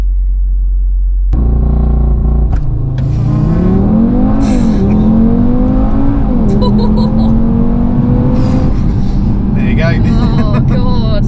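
An Audi TT RS launching hard under launch control on an open national-speed-limit road: a loud, close engine roar that climbs steadily in pitch through the gears, with brief dips at each shift over a constant rumble.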